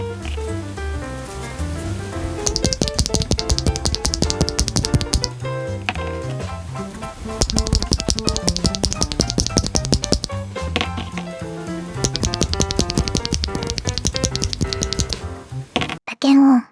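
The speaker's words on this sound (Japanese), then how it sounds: "打鍵音。" Fast continuous typing on a Furycube GT80 HMX Citrus Grape v2, a full-aluminium gasket-mount mechanical keyboard with double-shot keycaps, dense rapid clacks in steady bursts with short pauses, close and clear, ending with a brief thump.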